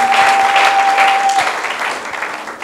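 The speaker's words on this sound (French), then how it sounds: "Acclamez pour la gloire de notre Dieu" Congregation applauding together in a church service, a steady dense wash of clapping that holds loud and then eases slightly toward the end, with a faint sustained tone running underneath for the first half.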